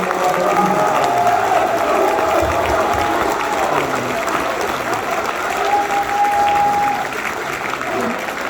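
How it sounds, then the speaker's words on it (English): An audience at a Marine Ball ceremony breaks into sustained applause, a steady wash of clapping with a few scattered cheers and faint voices mixed in. "please join me in a round of applause for everyone that took part in making this"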